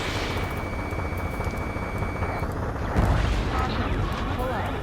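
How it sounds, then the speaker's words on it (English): Heavy gunfire and the roar of jets fill the streets of a city under martial law in the video game Last Hope, a continuous loud rumble with a sustained engine tone and a booming burst midway. "Gunfire and the roar of jets echoing through the streets."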